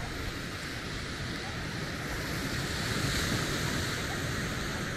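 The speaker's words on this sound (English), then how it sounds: "It's the wind." Strong wind blowing across an open outdoor flying site, a steady loud broadband rush with gusting buffets against the microphone, no talking.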